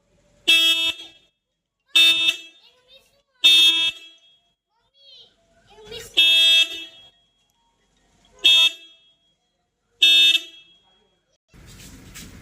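Six loud, separate blasts from an extra multi-tone car horn added to a car's wiring, each a rich bright tone about a second long, sounding at steady intervals close up, with faint background noise between them.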